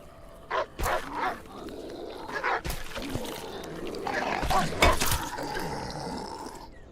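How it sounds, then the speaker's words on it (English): An angry dog in the survival video game HumanitZ barks in loud, harsh bursts over chaotic in-game background noise. "he suddenly sounds like a really angry dog"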